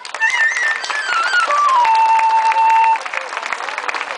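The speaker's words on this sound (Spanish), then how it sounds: "Fuerte el aplauso para él." Loud, steady applause from a crowd at a village festival proclamation in Miranda del Castañar, sustained for about three seconds before thinning slightly, with a whistle-like tone gliding downward above the clapping.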